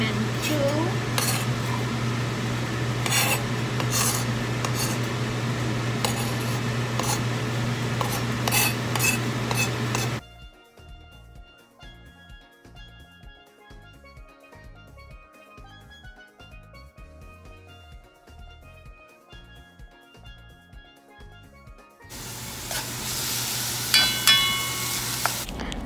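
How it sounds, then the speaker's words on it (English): Onions and pimento peppers sautéing in a little olive oil for a Trinidadian meal, with clattering pots, scraping utensils and stirring in a loud first stretch, a quieter gap with faint tapping, then the steady sizzle returning. "So while the onions were sauteing with the pimentos"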